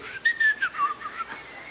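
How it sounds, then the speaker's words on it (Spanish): Members of a church audience whistle together at a pastor's prompt, a brief bright whistled phrase with a few rising and falling notes and some scattered whistling mixed in, fairly close. "¿sabes chiflar? Hazle conmigo."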